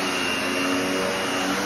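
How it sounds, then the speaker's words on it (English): A vacuum cleaner runs steadily over the traffic lanes of commercial carpet, a constant close whirring drone with no change in pitch and no talking. "take this vacuum and go around the whole circle traffic lane"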